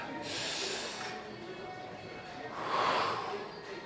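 An exaggerated deep breath is drawn in during an upper body warm-up, a breathy rush of air that swells twice, close to the microphone and fairly soft.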